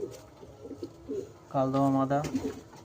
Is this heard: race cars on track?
no